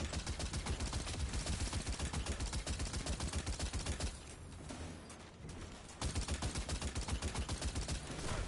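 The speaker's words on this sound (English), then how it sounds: "Is it just me, or am I the only one being shot at right now?" Rapid, continuous automatic gunfire aimed at the player in the video game Destiny 2, loud and dense, with a brief lull in the middle before the shooting resumes.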